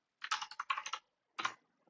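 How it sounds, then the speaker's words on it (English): Close keystrokes on a computer keyboard as a Python command is typed into PowerShell, a quick burst of about a dozen clicks, then a pause and a short final cluster like the Enter key, quiet and without talk. "I run my program by typing in the command Python, and then the name of the file I'm going to run,"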